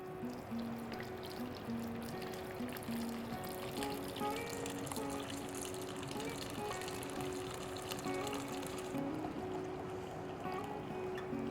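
Warm whey being gently poured through cheesecloth while making homemade fresh ricotta, a faint continuous trickle and splash that runs steadily for about ten seconds with no talking.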